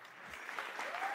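Audience applause at a Claude Code keynote event, a brief, soft patter of clapping spread across the room, fairly distant and faint, rising slightly toward the end.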